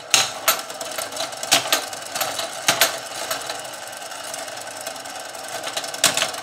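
The clockwork mechanism of a restored wind-up tin toy carrying balls whirs close by, with a steady mechanical buzz broken by sharp irregular clicks and clacks.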